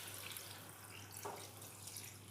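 Water being added to a potato and papaya curry in a pan, a soft continuous pour and splash heard close by at a low level with no talk.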